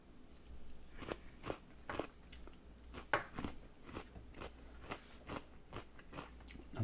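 Fresh, crunchy cucumber being bitten and chewed up close in a quiet room, a string of sharp crisp crunches, one after another in an irregular rhythm.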